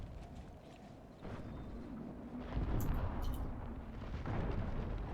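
Cannon and artillery fire against musketeer regiments in the Empire: Total War battle game, heard as a dense rumbling battlefield din that swells and grows louder partway through, with muffled booming volleys and no talking.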